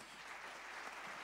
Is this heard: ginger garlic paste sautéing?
no